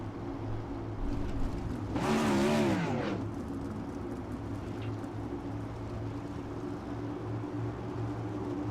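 Race cars on a dirt track during a heat race: a loud engine roar sweeps past around the two-second mark over a steady low mechanical hum, then the sound settles back to a constant droning background.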